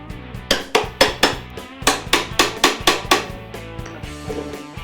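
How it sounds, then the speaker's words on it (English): A hammer taps metal seat brackets on an Otter XT Pro X-Over ice shelter to adjust them, about a dozen sharp, evenly spaced strikes close by, with no talking. "So what I can do for this, I can use a hammer"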